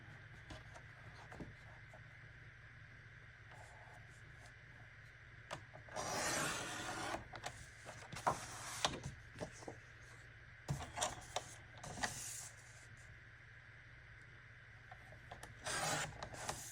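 Paper being cut by hand to make a journaling card: intermittent scratchy snipping and rustling bursts, quiet and close, over a steady low hum with long pauses between cuts.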